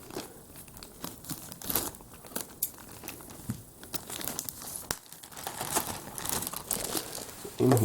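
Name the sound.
cutting open sealed bag of LEGO pieces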